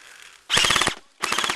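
Bursts of rapid automatic gunfire in an online 10-versus-10 shooter match, a long loud volley followed after a short pause by a second sustained burst, with no talk over them.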